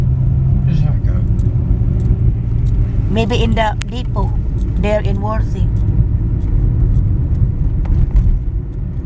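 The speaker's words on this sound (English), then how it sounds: "That's the bus that we ride." Diesel rumble of a bus near the depot in Worthing, low and steady throughout, with people talking over it in the middle.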